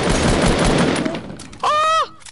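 Gunfire in a shooter video game, a dense burst of shots that fades out, followed by a brief sharp electronic game tone near the end.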